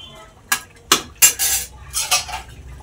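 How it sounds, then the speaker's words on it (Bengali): A utensil scrapes and clinks in a pan while boiled eggs are stirred, making several distinct close scraping strokes spaced over a couple of seconds against a quiet background. "ডিম দেওয়া হয়ে গেল, একটু নেড়ে নিলাম"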